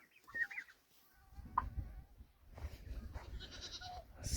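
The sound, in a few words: village chickens and roosters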